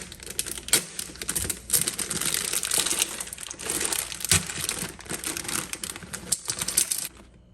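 Dry pasta poured from a bag into a cooking pot, a dense rattling clatter of hard pieces mixed with plastic crinkling, loud and close, lasting several seconds before stopping.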